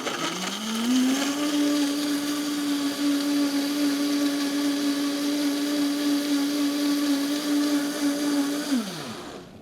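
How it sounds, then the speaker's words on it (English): Blender whirring through a banana, chocolate and spinach smoothie, a loud steady motor drone that spins up, holds evenly for about seven seconds, then winds down, with no talking. "Now we just gotta turn it on and blend up this baby."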